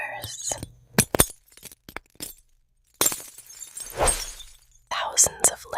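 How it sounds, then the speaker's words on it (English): A thick chocolate mirror glaze over pastry cracks and shatters under a single tap, giving sharp, crisp breaking clicks close up between quiet pauses, with a brittle crackling burst in the middle. "One tap and the mirror shatters."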